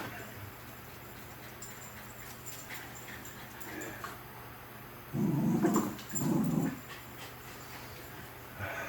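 A dog growls low and whimpers nearby, quiet at first, then two louder bursts of rough growling near the end, with no talking.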